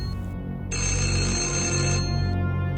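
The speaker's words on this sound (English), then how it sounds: "That moment, my phone rang." A mobile phone rings with a loud, steady electronic ringtone that swells in after a brief quieter start and holds alone for about two seconds.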